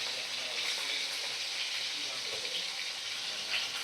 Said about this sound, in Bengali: মাছগুলোকে আমি গরম তেলের মধ্যে ছেড়ে দেব। দেখো মাছগুলো আমি উল্টে পাল্টে ভালো করে ভাজা করে নিচ্ছি।